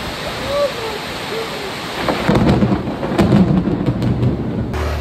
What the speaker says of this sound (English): We were at our little homestay on the balcony and we caught this lightning strike